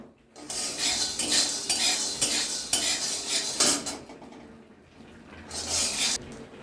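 Chickpeas frying in a pan and being stirred with a metal utensil, giving a scraping, clattering rustle in uneven bursts, with a soft sizzle underneath and a brief lull near the end.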